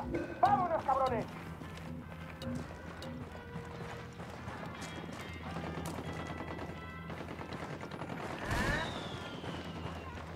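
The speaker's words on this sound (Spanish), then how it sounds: "Hay un tiroteo entre los rebeldes y Santa Blanca" Gunfire in the video game Ghost Recon Wildlands, a scattered series of sharp shots and mechanical clatter, mostly moderate and somewhat distant, heard under voices talking.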